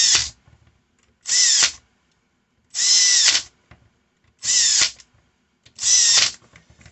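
Power driver backing out five Phillips screws from a Fromm P329/P328 strapping tool, heard as five separate whirring bursts, each under a second long, loud and close, separated by short quiet gaps.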